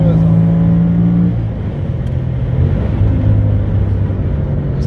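Audi S8, a roughly two-tonne luxury sedan, pulling away after a paddle-shift downshift to third, its engine droning loud and steady with shifting harmonic tones as revs change, heard from inside the car.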